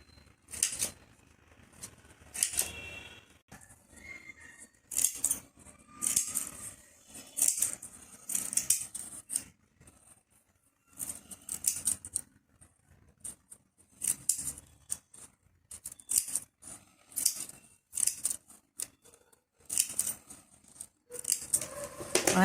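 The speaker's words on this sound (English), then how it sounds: "I am giving slits on the full paper." Scissors cutting slits across a full sheet of paper for a tricolour paper flower, crisp close snips in repeated quick bursts separated by short pauses.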